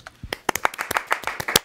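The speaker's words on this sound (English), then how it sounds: "deserving round of applause" Audience clapping, a short burst of many separate hand claps in a brisk irregular rhythm, close and fairly loud, during a live Old School RuneScape Q&A stream.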